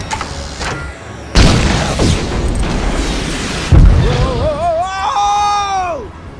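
An attacking ship opens fire in LEGO Marvel Super Heroes, two heavy booming blasts a few seconds apart, followed by a warbling, falling electronic whine as the second explosion fades.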